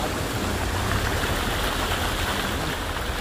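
Water of the Ipojuca River in Gravatá flowing, a dense steady rushing wash with no breaks, fairly loud and close; no talking.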